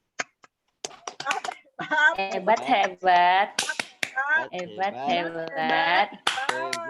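Group of participants at an Indonesian coaching session doing a rhythmic patterned clapping cheer, sharp claps mixed with chanting voices, fairly close and loud, with a few isolated claps at the start.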